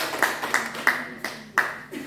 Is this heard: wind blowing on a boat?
no